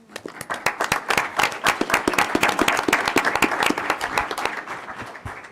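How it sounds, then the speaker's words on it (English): Steady round of applause from many people at a school board meeting, dense overlapping claps sustained loud for several seconds with no speech over it. "you all deserve another round of applause"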